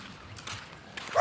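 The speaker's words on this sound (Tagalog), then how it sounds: "Ang daming aso." Several dogs yip and bark in short, light bursts at moderate distance, a few quick barks spaced across a brief moment with faint background noise.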